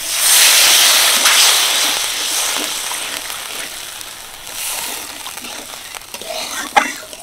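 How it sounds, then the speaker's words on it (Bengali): Water splashes into a pan of cabbage curry cooked with spice paste, salt, turmeric and chilli powder, a loud rushing hiss that settles into bubbling sizzle, with a sharp scrape of a utensil near the end. "তো চলুন এবার আমি জল দিয়ে দিই"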